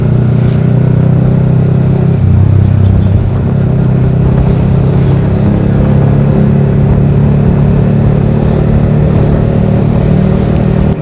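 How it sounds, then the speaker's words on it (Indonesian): Loud, close exhaust note from a Yamaha R15 V3 with a Daytona Evolution aftermarket muffler, a deep rumbling drone that swells briefly early on and then holds steady. "Mudah-mudahan kedengeran jelas ya suara knalpotnya."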